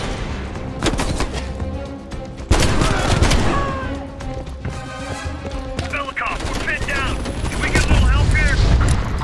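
Loud combat in Call of Duty: Black Ops Cold War: bursts of gunfire and a booming explosion, with rattling mechanical noise and chopper-like thumping, while voices talk over it.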